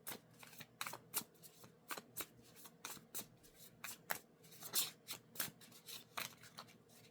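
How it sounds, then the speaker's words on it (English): Playing cards are riffled and shuffled in quick repeated bursts, close and fairly soft, with short pauses between each shuffle. "And I was shuffling them upside down."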